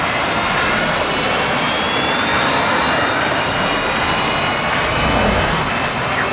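A guided missile flying at Mach 3 in Call of Duty: Modern Warfare 2 gives a loud, continuous jet-like roar with a thin, steadily rising whine, close and alone.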